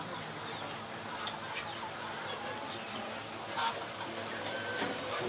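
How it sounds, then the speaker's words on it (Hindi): Egyptian Golden hybrid roosters and hens on a poultry farm in hot weather, a steady crowd of soft clucks and murmurs at mid distance over a constant fan-like hum, with occasional brighter calls. "इनमें मुर्गे भी और मुर्गियाँ मिक्स हैं"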